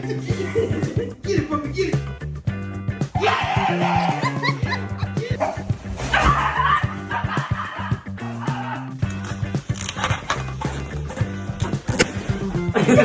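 Several dogs bark, yip and whimper in a comedy pet compilation, the barks scattered through a busy mix with music-like tones and voices running underneath throughout.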